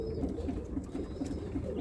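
A Birmingham Roller pigeon coos softly and steadily, a rhythmic series of low throaty calls repeating close by at a gentle, even pace.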